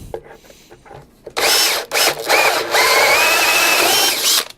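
A power tool cuts into smoky MDF while a router base is being made, in loud, harsh bursts: a short buzz, a brief pause, then a long sustained grinding whine with a rising tone, after quieter rustling at the start.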